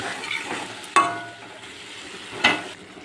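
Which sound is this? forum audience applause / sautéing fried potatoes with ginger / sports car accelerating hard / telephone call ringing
sautéing fried potatoes with ginger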